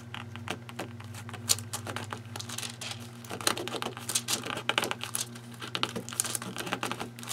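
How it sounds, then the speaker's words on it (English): Paper is pulled out of a sample book, with a steady run of close crinkling, rustling and tapping over a low constant hum. "so let's take the paper out"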